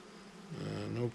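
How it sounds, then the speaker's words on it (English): Honeybees humming inside an open hive as a frame is drawn out, a close, dense buzzing that swells over about a second with no talking. "A lot of bees on the inside wall."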